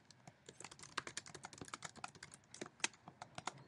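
Close, quiet typing on a computer keyboard, a rapid irregular patter of individual key clicks with no voices.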